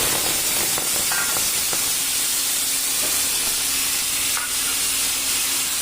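Chutney ingredients, including olives, frozen green mango, dates and tomato, with panch phoron spice and bay leaf, fry in a pan with a steady close hissing sizzle and a few stirring knocks.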